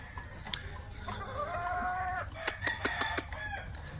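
Leiper chickens, year-old hens and a six-month-old young rooster, cluck and call close by, with a drawn-out crowing note midway and a run of sharp rhythmic clucks near the end over low background noise.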